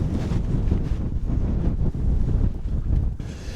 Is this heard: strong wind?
yes